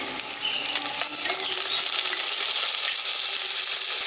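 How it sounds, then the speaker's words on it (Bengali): Chopped tomato frying and softening in a pan for village-style brinjal bharta, a steady close sizzle with broadband crackle and small stirring clinks throughout, no talking. "এবার এটাকেও আমি ভেজে নিচ্ছি আর নরম করে নিচ্ছি টমেটোটাকে"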